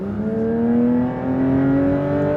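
A Porsche 992 GT3 engine while driving, a loud, close, sustained howl whose pitch climbs steadily as the revs rise, with a brief dip partway through before it pulls on.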